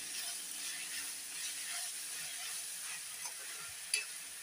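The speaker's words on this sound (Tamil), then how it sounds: "இது வதங்கிட்டு இருக்கும்போது நம்ம இது கூட கல் உப்பு சேர்த்துடலாம் அப்போ தான் வெங்காயம் சீக்கிரமாக வதங்கும்" Onions sautéing with rock salt in a pan for Thanjavur-style poori masala give a steady, close sizzle with soft stirring scrapes and one sharp clink near the end.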